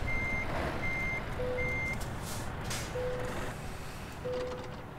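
A truck in a driving game reverses with its backup alarm sounding, evenly spaced electronic beeps over a low idling engine rumble, with a short hiss of air brakes midway and no speech.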